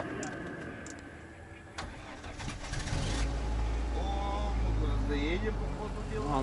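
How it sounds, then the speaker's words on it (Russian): A vehicle engine on a cold morning by a lake, during a fishing trip, turns over and settles into a steady low idle to warm up. Faint bird cooing sounds earlier, and the rumble holds loud and close to the end. "Немножко прогреть двигатель."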